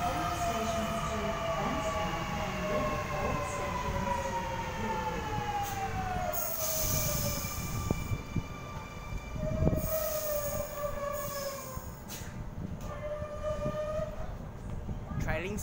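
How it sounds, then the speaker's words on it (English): Sydney M set electric train pulling away from the platform at Campsie, its motor whine sweeping in pitch with wheel squeal and rumble, loud and close, with a station announcement voice heard over it. "M12 and M21 now departing platform number 1 for a city circle by Sydenham service."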